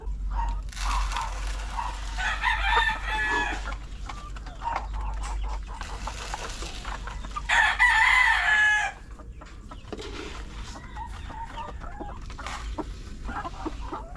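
Chickens and roosters in a backyard coop make repeated clucks and two loud, drawn-out crows. The crows stand out over a steady low rumble of background noise.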